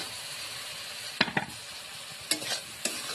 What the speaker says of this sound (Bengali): এর মধ্যে ধনে গুঁড়ো, জিরে গুঁড়ো আর লঙ্কা গুঁড়ো জল মিশিয়ে গুলে নিয়েছি, এটা এর মধ্যে দিয়ে দেব